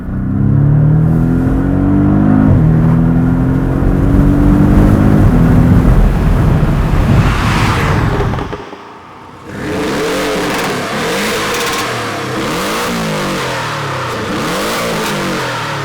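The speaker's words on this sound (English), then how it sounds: "the most savage sounding 4-cylinder that you've ever heard" A 2017 Porsche 718 Boxster S four-cylinder exhaust revs loudly and aggressively, the engine note climbing, cutting out briefly, then barking through a series of sharp blips up close.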